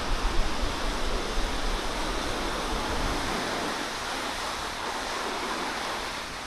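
Steady broadband rush of a river stream flowing past Kakodiya Ghat near Harsil, a continuous close wash of water with no pauses and no voices.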